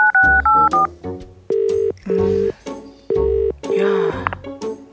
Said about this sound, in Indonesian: Kita telepon dulu ayahnya.